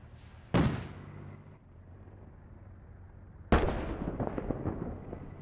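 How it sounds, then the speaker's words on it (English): Rockets exploding at a base in the Squad video game, two loud blasts about three seconds apart, each a sharp boom that rolls off into a long fading rumble and debris. "They're still shooting rockets into the base."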